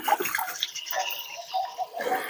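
Tap water from a tank runs and splashes while cucumbers are washed, an uneven close trickling and sputtering over a couple of seconds.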